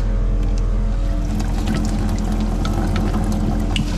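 A malfunctioning coin-operated water vending machine in Thailand pours water out in a loud, continuous rushing stream that stays steady and unbroken throughout.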